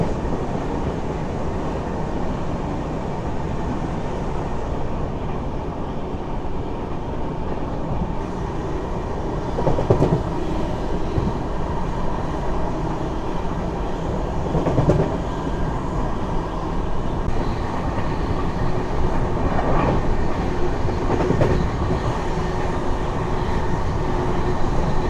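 The Coromandel Express rolls from Chennai toward Visakhapatnam in heavy rain, its carriages giving a steady, loud rumble heard from inside, with rhythmic clickety-clack of wheels over rail joints running throughout.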